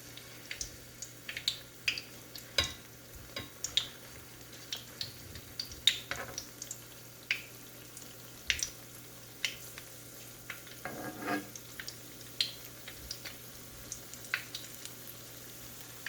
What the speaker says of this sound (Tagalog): ipa-fried natin siya hanggang mag-golden brown or maging crunchy siya